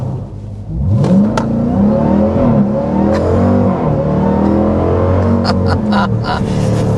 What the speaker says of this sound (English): we're going to start with a hard acceleration.